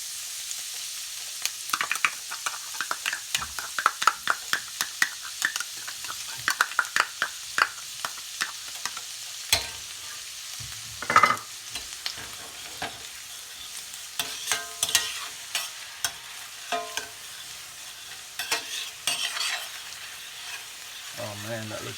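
Onion fries in a pan with a faint, steady sizzle punctuated by many quick crackles and pops, plus occasional louder scrapes or knocks of a utensil, heard close without speech.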